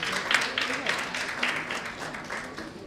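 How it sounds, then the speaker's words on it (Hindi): An audience at a women's empowerment NGO event applauds to welcome a speaker to the stage, giving a steady, moderately loud wash of clapping that continues for several seconds with faint talk mixed in. "तालियों से स्वागत।"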